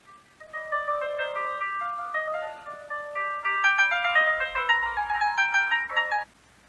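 An F+ B280 mobile phone plays a polyphonic melody ringtone at maximum volume, a bright, chiming tune of repeated notes in two phrases, loud and close with no talk over it.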